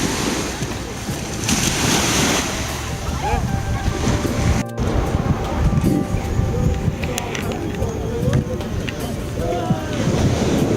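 Ocean waves wash steadily onto the shore at Surin Beach in Phuket, Thailand, with wind buffeting the microphone, continuous and fairly loud throughout.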